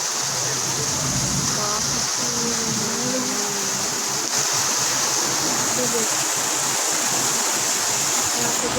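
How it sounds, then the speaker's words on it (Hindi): Floodwater from heavy rain in Surat rushes steadily through a street in a loud, broad wash of flowing water, with faint low voices in the background. "यहाँ पे जो कितना सारा पानी भर गया है।"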